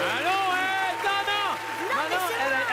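A woman imitates a wolf howl on a French television game show, her voice rising and falling in long sliding wails over about three seconds, with faint audience noise behind.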